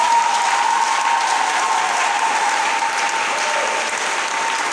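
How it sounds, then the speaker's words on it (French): A church congregation claps and cheers in praise of the Lord Jesus, a steady, dense wash of applause from a large crowd that holds at full strength for the whole stretch. "Est-ce qu'on peut acclamer fort pour le Seigneur Jésus?"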